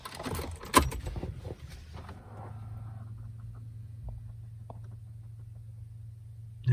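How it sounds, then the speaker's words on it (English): A set of car keys jangles close by in a VW during a head-unit install, a brief metallic rattle followed by a steady low engine idle hum. "do you want some keys? There's some keys there."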